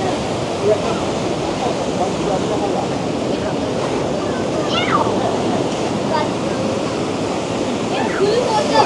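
Steady rushing water fills the scene, a continuous wash of ocean tide waves with wind noise at the shore by Tanah Lot Temple, Bali, constant and moderately loud throughout.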